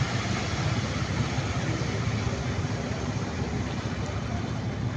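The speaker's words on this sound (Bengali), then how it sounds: "আবার মইনুল ঘাটে দেখুন স্পিড বোটও আছে, যে স্পিড বোট, আপনি চাইলে স্পিড বোট দিয়ে ঘুরতে পারবেন।" Speedboat on the Padma river at Moinul Ghat, its engine a steady, dense low roar that holds at one level throughout, with constant water and motor noise and no speech.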